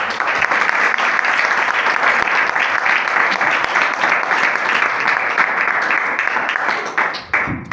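A church congregation at a live sermon claps loudly together in a sustained, dense burst of applause that runs for several seconds, then fades at the end.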